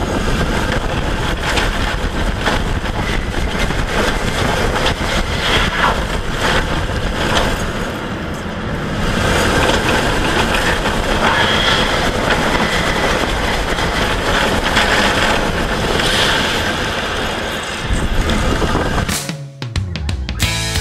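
Wicked Twister roller coaster at Cedar Point, a steady loud rumbling roar of cars on track with clattering wheels and wind noise throughout, ending abruptly near the close.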